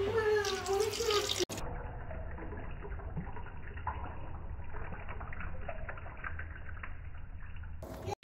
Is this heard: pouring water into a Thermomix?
yes